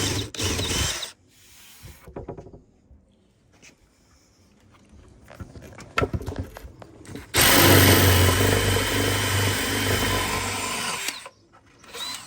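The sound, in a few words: power drill drilling holes for LED wires in a desk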